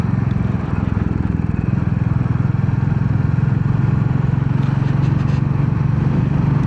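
A Royal Enfield Bullet 350 motorcycle being ridden, its engine giving a steady, close, low thrumming drone that holds constant throughout with light road clatter mixed in.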